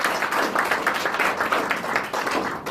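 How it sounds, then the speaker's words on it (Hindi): Applause from an audience welcoming team leaders at a Rootpure India join call in Balotra, Rajasthan, a steady dense wash of clapping lasting a few seconds with no voices over it. "एक बार जोरदार तालियों से आप स्वागत करिए"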